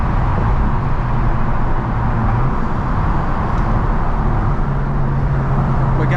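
Loud Volkswagen Golf R Mk7.5 with an aggressive exhaust droning steadily through a drive in Boston traffic, a continuous close engine rumble with faint irregular pops and crackles mixed into the roar.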